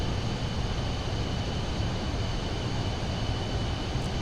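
Small jet in a flight video game flying near its top speed of about 0.7 Mach, a constant loud engine and wind roar with a thin high whine, unbroken and without speech.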